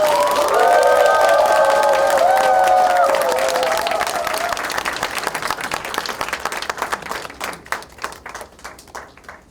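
An audience at a Seoul mayoral campaign event gives big applause and some cheers to welcome a candidate, loud and dense at first with voices over it, then thinning into scattered individual claps as it dies away.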